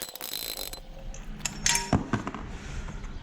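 Metal clinks and small ratcheting mechanical sounds while thermostat housing studs are removed from a Yamaha Vmax engine, a few close taps and scrapes over a quiet background.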